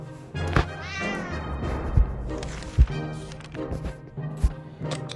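A cat in the video game 60 Seconds meows several times in a row, close and clear, with faint thuds and background game sounds underneath.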